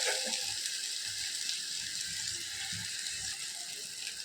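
Food sautéing in oil over a low flame gives a soft, even sizzle with faint crackles, quiet and continuous throughout, no talking.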